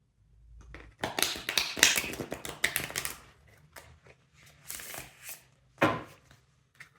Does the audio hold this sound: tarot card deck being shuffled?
yes